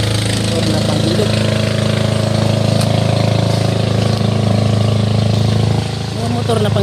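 Motor engine of a pump boat runs at a steady, loud idle-like chug throughout, with voices talking over it and the engine note dipping slightly near the end.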